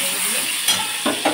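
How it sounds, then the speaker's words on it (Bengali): Eggplant slices sizzle in hot oil in a pan as they are turned over, a steady fry hiss broken by a few short scraping clatters from the flip. "বেগুন ভাজাটা উল্টে দিয়ে গেলাম"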